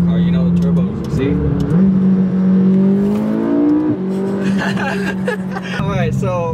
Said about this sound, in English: thing I really love is like the sound of the car, you know, the turbos, see?